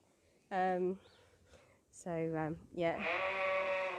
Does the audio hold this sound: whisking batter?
no